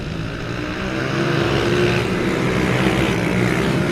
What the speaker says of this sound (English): the supermoto machines get underway off the start line